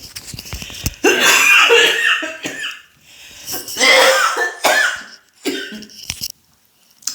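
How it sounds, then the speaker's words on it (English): A person coughs hard several times in rough, uneven bursts, close and loud, with short gasping breaths between the fits. "I'm about to start coughing."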